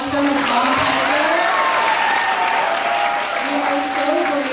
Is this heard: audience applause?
yes